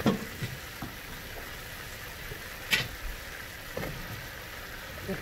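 Yellow squash sautéing in a pan for a vegan lunch gives a steady, soft sizzle running throughout, with a few light clicks of stirring or utensil contact and no talking.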